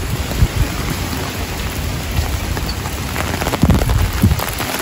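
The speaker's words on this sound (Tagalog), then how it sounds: "Ang ulan pa naman po ay hindi hindi pantay at patagilid." Heavy slanting rain pours down outdoors during fishing, a loud, dense, continuous hiss of drops striking surfaces nearby, with occasional low thuds and bumps beneath it.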